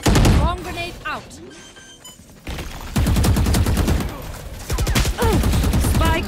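Rapid automatic gunfire sprays in bursts during a competitive Valorant match on the Haven map, loud and close, with a player's voice talking over parts of the fire.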